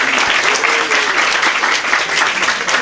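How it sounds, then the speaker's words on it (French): An audience at a primary school donation day applauds loudly and continuously, a close dense patter of clapping throughout. "les filles doivent même applaudir"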